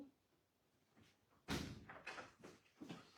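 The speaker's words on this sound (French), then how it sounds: "Je ferme la porte." A door slams shut with a loud thud, followed by a few softer knocks and handling sounds indoors.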